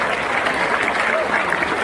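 Loud, steady applause from a large audience at a political convention in Patna, Bihar, welcoming a national party president; dense, continuous clapping fills the whole stretch without letup.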